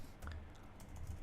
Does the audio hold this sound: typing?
yes